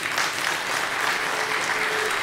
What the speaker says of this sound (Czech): Tady nikdy nikdo nedostal tolik potlesku, jak vy.